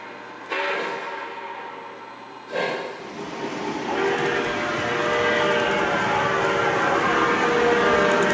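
A model Southern Crescent train in green livery runs steadily, its rolling rumble building and holding close and loud after a couple of short sharp onsets near the start.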